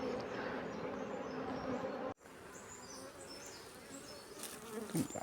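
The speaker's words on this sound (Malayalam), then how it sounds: "കത്തിയുടെ മേലായാലും വലക്കായാലും ഒക്കെ ഈച്ച വരും" Honey bees buzz around an opened beehive box, a dense continuous drone of many insects close by, briefly cut off and resuming a little fainter, with faint bird chirps.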